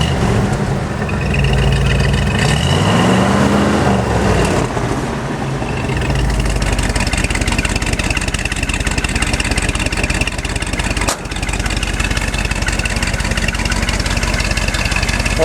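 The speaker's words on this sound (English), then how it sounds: "Give it a rev here." A 1974 Ford F250 Ranger XLT 4x4 pickup engine idles close by, then gives one quick rev that swells and falls back before settling into a steady, rumbling idle.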